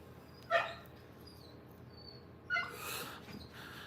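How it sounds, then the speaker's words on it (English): Outside, a neighbour's new dog gives two separate yelping bark-whimper bursts about two seconds apart, fairly faint against quiet background noise. "They've got a new dog, and he doesn't like being outside."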